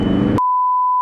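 A single sustained electronic warning beep inside a Volkswagen Jetta, clear and loud, steady for most of the clip after a short stretch of cabin noise.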